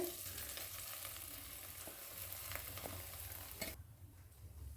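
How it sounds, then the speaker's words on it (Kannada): Bread pieces fry in oil in a kadai over a low flame, a soft steady sizzle with small bubbling crackles, then a quick clatter as it eases to a faint hiss. "ಇದು ಬ್ರೆಡ್ ಪೀಸ್ ಮಾಡ್ಕೊಂಡಿದ್ವಲ್ಲ, ಅದನ್ನೀಗ ಹಾಕ್ತಾಯಿದ್ದೇನೆ ಇದರೊಳಗೆ."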